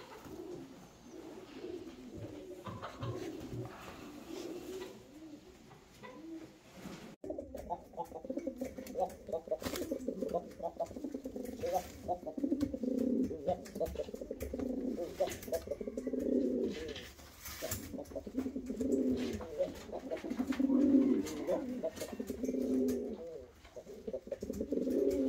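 Hungarian pigeons coo steadily in a loft, a dense overlapping murmur of low throaty calls that grows fuller after the first few seconds and carries on throughout with no talk over it.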